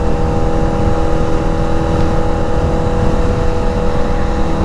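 A motorcycle engine droning steadily in top gear at around 5,000 RPM, cruising at the speed limit, loud and constant with wind rush over a broad roar and no change in pitch throughout.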